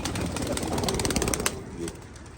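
Racing pigeons coo in a loft close by, a dense run of soft overlapping calls that stops abruptly after about a second and a half, leaving quieter background.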